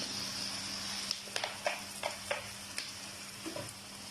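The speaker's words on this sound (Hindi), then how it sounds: "अब इसमें 1 चम्मच के करीब मैं सोया सॉस और चिली सॉस डाल दूंगी" Chicken fries in a pan with soy sauce and chili sauce being added, giving a steady near sizzle broken by several sharp spatters and stirring clicks.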